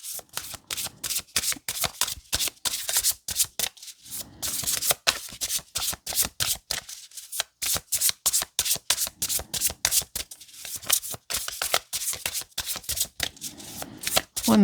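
Tarot cards shuffled by hand in a long run of quick riffling bursts and soft slaps, close and fairly quiet, with brief pauses between handfuls.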